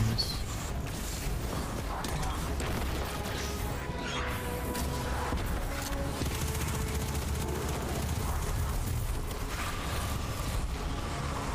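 Rapid automatic gunfire from Destiny 2 raid combat in the Vow of the Disciple fourth encounter, a dense continuous clatter of shots and impacts that runs steadily throughout at constant loudness.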